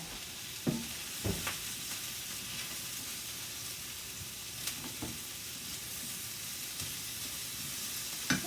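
Pork chow mein noodles sizzle steadily in hot oil in a pan, a constant close frying hiss broken by a few sharp clanks and stirring knocks, with no talking.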